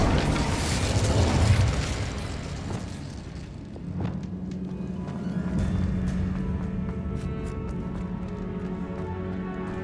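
A fire spell cast in the video game Hogwarts Legacy: a loud whooshing burst that fades within a few seconds into a softer, sustained crackle and hum.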